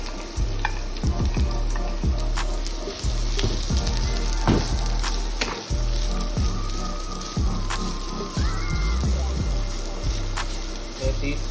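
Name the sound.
vegetables sautéing in hot oil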